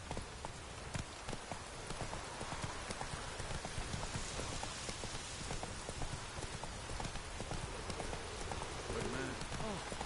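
Roach, the horse in The Witcher 3, runs on a rain-soaked path, with quick rhythmic hoofbeats under a constant hiss of rain and a voice speaking partway through.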